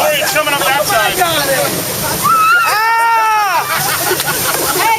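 Water sloshes and splashes steadily around a raft on the Kali River Rapids ride at Disney, loud and close, while riders shout and squeal over the rushing spray.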